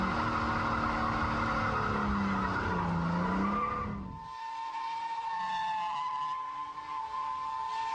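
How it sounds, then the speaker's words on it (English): A car engine revs hard while tires squeal and skid in a loud circling slide, then the squeal drops away to a steadier engine drone and tire noise. "dump the clutch. And round it goes, instant donuts, instant joy."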